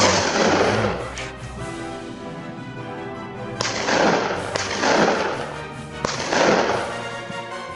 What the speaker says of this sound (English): A gunshot echoed through the valley, but the boar kept running.